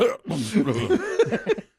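A short burst of harsh coughing, a couple of rough throaty hacks close to the microphone, ending in a quick catch of breath.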